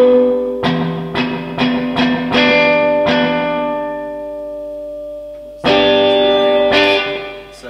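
Electric guitar, a 1964 Gibson ES-330, plays a series of picked notes and chords, each ringing out with echoing repeats from a delay effect, then a louder strummed chord near the end.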